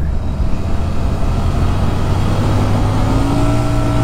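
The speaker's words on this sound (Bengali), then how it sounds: "আমি ফোর্থ গিয়ারে দিয়ে স্পিড দিয়ে চেক করছি।" A Royal Enfield Super Meteor 650 motorcycle held at full throttle in fourth gear, its engine giving a loud, steady, close roar that never rises in pitch, as the faulty bike fails to pick up speed.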